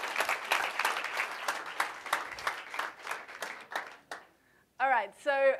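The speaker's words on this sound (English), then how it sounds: "give yourselves a very big round of" An audience at a young African leaders innovation summit applauds themselves, a burst of brisk clapping that dies away into quiet before a voice begins speaking.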